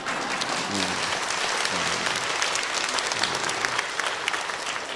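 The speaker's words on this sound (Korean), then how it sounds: "막 박수를 칠 줄 알았거든요." Loud, steady applause from a church congregation at an all-church retreat, a dense continuous wash of clapping with faint murmuring voices underneath.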